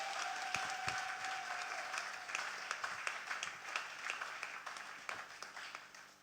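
A church congregation at a Sunday service applauds to welcome a speaker, with sharp individual claps standing out from the crowd noise as the clapping slowly tapers off.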